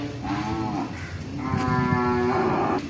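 A cow moos twice, long, loud and close, each low bellow rising and holding before fading, with no talking over it.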